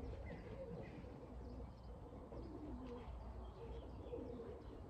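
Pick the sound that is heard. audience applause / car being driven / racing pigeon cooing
racing pigeon cooing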